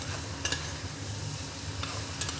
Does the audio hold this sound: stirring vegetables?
yes